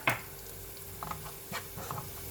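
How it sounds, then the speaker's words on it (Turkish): Eggplant slices frying in a pan, a soft steady sizzle broken by a few clinks and scrapes of a utensil stirring, close and quiet. "Şimdi patlıcanlarımız kızarıyor."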